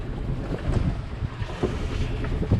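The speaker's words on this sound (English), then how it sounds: "The wind has picked up a bit, so it's got quite choppy" Steady gusting wind buffets a small sailboat with its head sail out on a choppy loch, a low rushing roar mixed with water slapping against the hull.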